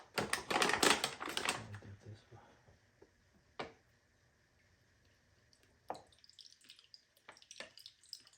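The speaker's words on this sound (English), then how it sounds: "You hear the water coming out of the sunbed." Condensate water from an AC drain pipe splashes in a dense burst of trickling and spattering, then falls into sparse, quiet drips and small splashes separated by near silence.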